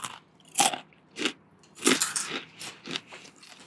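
Someone bites into and chews crunchy French fries, making about eight sharp, close crunches in an uneven rhythm with short pauses between bites and no talk.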